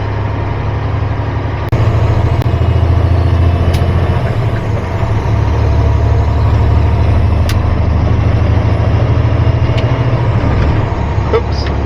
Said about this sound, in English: Oops, jake brake.